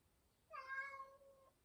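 A pet cat indoors gives one clear meow, drawn out and falling slightly at the end, fairly faint and close, with no talk over it.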